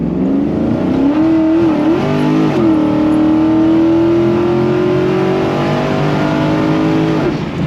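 Car accelerating hard onto a highway with a 323 gear set, its engine note rising and holding loud and close, with a brief dip as it shifts, then settling into a sustained high drone.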